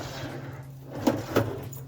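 Kings drawers in an Isuzu MU-X slide along their runners, giving two distinct noisy rattling clunks about a third of a second apart over a low steady hum.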